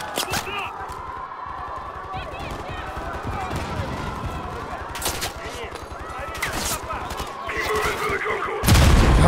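Dense, continuous gunfire from Call of Duty: Modern Warfare 3, with rapid bursts and booms layered over a steady din of combat, loud and close, ending with a sharp heavy blast.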